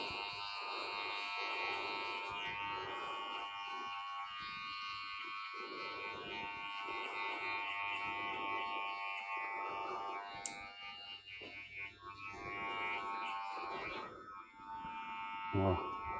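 Electric hair clippers fitted with a 3 mm guard trim hair at a barbershop. A steady, close buzzing drone runs throughout, briefly dipping and wavering near the end.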